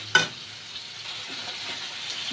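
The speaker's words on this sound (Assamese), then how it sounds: "ৰেডি কৰি এতিয়া মছলা তেল ওলাবলৈ ভাজি দিম।" A spice paste with salt and turmeric, for a prawn curry, hits hot oil with a sharp clatter at the start, then settles into a soft, steady frying hiss close by.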